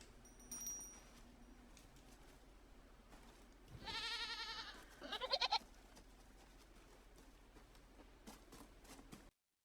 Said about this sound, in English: we rush the baby goat straight back home